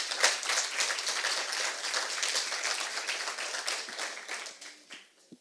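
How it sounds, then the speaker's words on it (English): Applause from an audience at a business incubation pitch forum, many hands clapping in a dense steady wash that thins out and fades over the last second. "a big round of applause for Choice Board."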